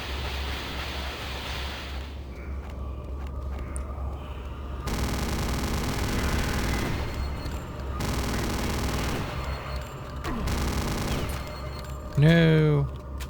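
Venom gun firing in the video game Return to Castle Wolfenstein: loud, continuous rapid-fire bursts in long stretches broken by short pauses, over a steady noisy game background, with a brief voice-like sound near the end.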